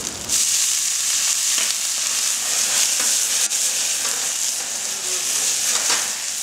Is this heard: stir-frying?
yes